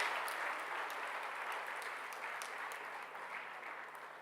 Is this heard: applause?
yes